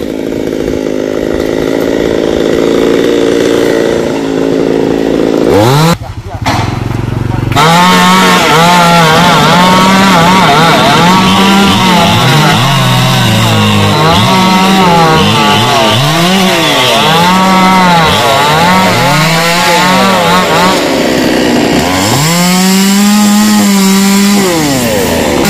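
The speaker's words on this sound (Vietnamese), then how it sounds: "đưa cái máy cưa nhỏ cho anh Hiền cưa tiếp tục" A small chainsaw cuts through a Xà Cừ tree branch, its engine loud and close, revving and bogging in repeated wavering surges with a brief pause near the middle before cutting again.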